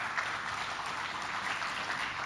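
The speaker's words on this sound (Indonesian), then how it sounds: "Kang Reza Zakarias, kasih tepuk tangan buat beliau." An audience at an Indonesian leadership event gives a speaker steady, continuous applause that holds at an even level throughout.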